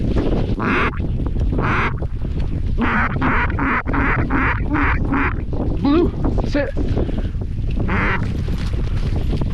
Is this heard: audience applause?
no